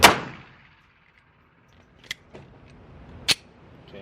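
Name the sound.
Glock 19 gen 5 pistol with compensator firing at range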